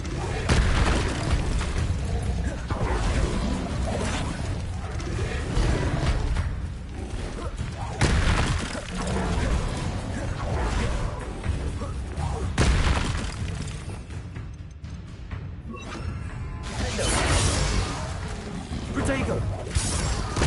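Spell-casting in a Hogwarts video game bursts out as repeated booming magical blasts and crackling hits in waves, with a voice audible underneath.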